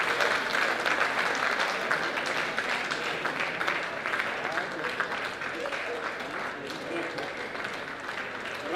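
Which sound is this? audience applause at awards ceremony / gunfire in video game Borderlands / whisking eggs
audience applause at awards ceremony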